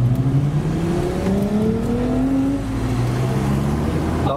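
Volkswagen Golf VR6 engine with a rising induction growl as it revs and pulls, rather loud and close, with a steady whirring drone and slowly climbing pitch.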